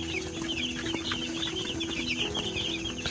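Two-night-old broiler chicks in a brooder from a batch of 300 give off a dense, continuous chorus of high peeping over a steady low hum, close and fairly loud, with no talking.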